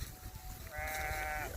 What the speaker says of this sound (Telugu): ఈ గొర్రెని చూసారా?